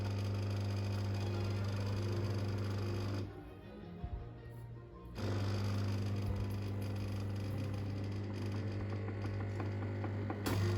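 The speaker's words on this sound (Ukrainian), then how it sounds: "Нагнітається тиск в систему." A Melitta/Nivona coffee machine that leaks water into the drip tray and will not brew hums steadily as its pump builds pressure, a low drone briefly dropping out midway before resuming its constant mechanical buzz.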